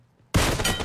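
Gunfire in a first-person video game shooter, a sudden loud burst after near silence that holds as a dense rattling volley.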